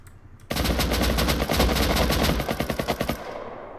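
Automatic weapon fire in the survival game Rust, a loud close burst of rapid shots starting abruptly after a short quiet gap and tapering into spaced single shots before stopping, with no voices.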